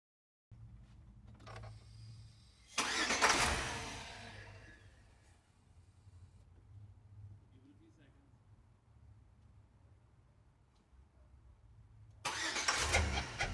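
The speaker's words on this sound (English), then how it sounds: "I get the engine to turn all the way over, but not actually start." A car engine cranking on a jump starter without catching: a short whir, then a loud burst of starter grinding that fades into a low hum and quiet stretch before a second cranking burst begins at the end.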